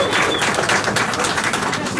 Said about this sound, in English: A big round of applause for Bobby, please.